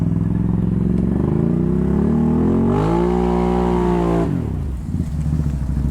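A Can-Am XMR 700 four-wheeler, in two-wheel drive and stuck in mud, revs hard and loud up close, its engine note climbing and holding before dropping off abruptly near the end.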